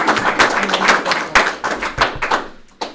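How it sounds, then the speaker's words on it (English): Audience applause at a Rotary-style club gathering, a burst of many hands clapping close and fairly loud, thinning toward the end with a few last claps. "So I think we should give ourselves a round of applause for doing such a great job for kids."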